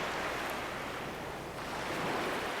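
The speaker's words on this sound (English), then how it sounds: "those are some pretty big waves" Big ocean waves surge in a continuous roar of surf, broad and fairly faint, with wind-like wash running steadily throughout and no voices.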